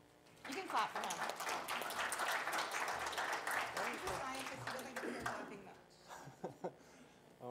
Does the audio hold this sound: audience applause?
yes